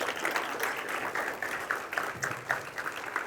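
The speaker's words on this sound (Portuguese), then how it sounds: "Vamos aplaudir ao Senhor e a sua palavra?" A church congregation applauds during a service, a steady wash of many hands clapping at moderate level with no talk over it.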